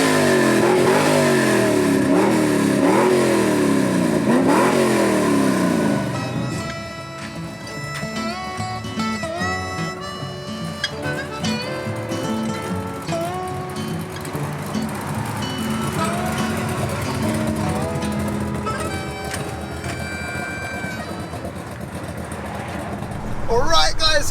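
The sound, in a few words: Chevy farm truck engine revving and accelerating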